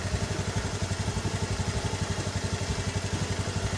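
A Honda Scoopy automatic scooter engine runs at a steady idle, close up, with a rapid, even puttering pulse and light mechanical clatter throughout.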